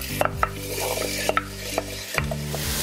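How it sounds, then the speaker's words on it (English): Onion, carrot and celery sauteing in hot olive oil make a continuous close sizzle, broken now and then by a sharp tap or scrape of a utensil against the pan, with no talking. "So as soon as my olive oil's hot, we're going to start to saute those."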